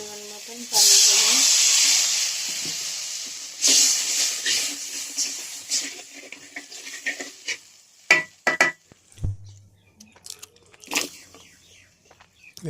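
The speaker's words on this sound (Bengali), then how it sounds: "পরিমাণ মতন পানি দেব।" Water poured into a pan of fried spices bursts into a loud steaming hiss that fades, followed by scattered clinks and stirring noises.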